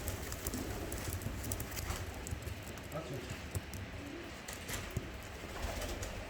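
Young Ardioza postal pigeons cooing softly inside a coop, a low murmuring coo repeated steadily through the clip, with faint rustling and distant voices around them.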